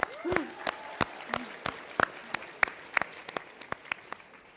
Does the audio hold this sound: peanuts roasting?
no